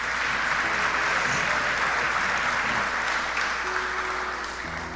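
A church congregation applauds, a broad steady roar of many clapping hands filling the room, slowly tapering toward the end, with a low musical drone beneath and faint voices.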